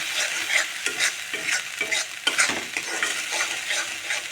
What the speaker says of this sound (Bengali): মশলা এভাবে কিছুক্ষণ কষে নেব